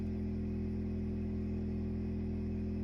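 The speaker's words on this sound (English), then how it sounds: "All right, that's the sound of the gas generator running." A Honda gas generator runs steadily outdoors at night, its low, even engine hum droning without a break at moderate distance, with no voices.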